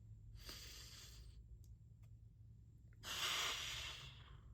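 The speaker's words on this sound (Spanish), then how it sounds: "Respiración consciente." Slow conscious breathing exercise during a talk on anxiety: two long airy breaths, a steady inhale then a stronger exhale after a pause, close and fairly quiet over a low background hum.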